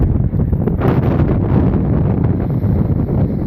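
Strong wind at a San Diego surf spot buffets the microphone in a loud, continuous low roar, gusting throughout with no voices.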